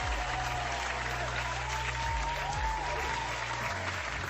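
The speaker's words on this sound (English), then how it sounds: "Give him an applause." Applause from a live-stream audience, steady and continuous over a low hum and faint background tones, with no speech.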